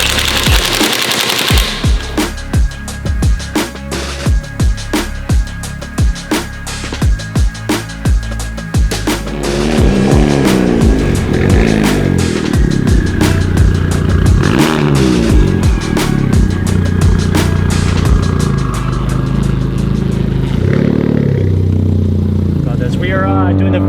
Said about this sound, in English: Doing the first test drive.